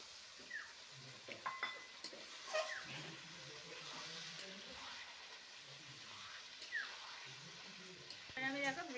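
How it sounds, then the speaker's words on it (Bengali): Ground spice paste water poured into a frying pan, bursting into loud sizzling and frying with stirring and occasional clinks of utensils against the pan, all under a voice talking. "এবার দেখো এই মশলা বাটার জলটা দিয়ে দেবো।"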